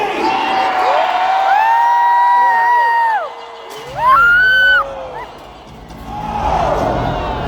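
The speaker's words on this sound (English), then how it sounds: "the crowd goes crazy" A crowd at a jousting match between Canadian and American knights roars with cheers and whoops, swelling loudly, dipping briefly, then rising again in ragged bursts of shouting voices.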